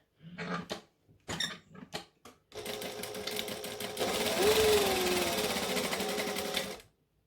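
Brief bursts of sound open the clip, then a home sewing machine stitches fabric for a pair of shorts in a loud continuous run. The motor hum rises partway through with a squeaky whine and stops abruptly at the end.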